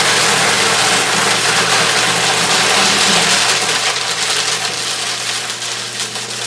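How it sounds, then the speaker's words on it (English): Snow cone machine shaving ice as the ice is pushed through into the base: a loud, steady motor drone with grinding and crunching on top, easing slightly toward the end. "hold this button in at the same time as pulling this thing down, which will push the ice through the machine into the base here"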